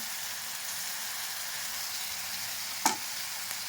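Onion frying over a low gas flame gives a steady close hiss and sizzle, with one brief sharp clink of a utensil near the end.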